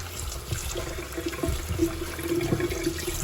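Cold tap water runs over raw ground beef being rinsed, a steady splashing stream with gurgling fluctuations, close and alone without talk.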